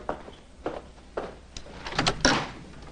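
A door is handled indoors at close range: a series of separate knocks and clacks, then a louder latch click and thud near the end, with no talking.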